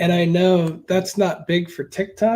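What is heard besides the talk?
No distinct noise like a dog, phone or traffic.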